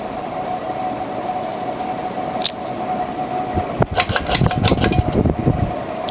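A 1938 General Electric top-mount 52-inch antique ceiling fan running at medium speed gives a steady motor hum with a constant tone, joined by some clattering and rattling bursts near the end.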